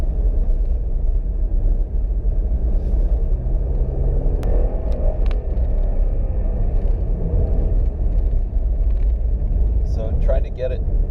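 A 2017 Jeep Cherokee on Les Schwab Open Range A/T tires rolls through snow with its tires spinning, a heavy continuous low rumble of engine and road noise while someone talks over it throughout.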